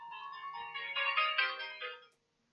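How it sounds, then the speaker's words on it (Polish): Phone ringtone plays a bright, steady electronic melody for about two seconds, loud and close, then cuts off abruptly to silence. "Oczywiście, telefon jak nagrywam."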